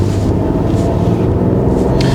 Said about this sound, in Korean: 엔진은 2000rpm을 넘으면서부터 그 음성적으로 자기의 존재감을 좀 드러냅니다